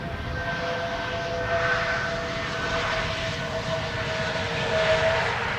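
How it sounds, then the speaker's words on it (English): A jet airliner rolls out after touchdown at Amsterdam Schiphol Airport using idle reverse thrust, a steady broad engine roar with faint whining tones, continuous and fairly close, swelling slightly near the end. "That is an A321neo having arrived from Athens. Idle reverse landing by the sound of it."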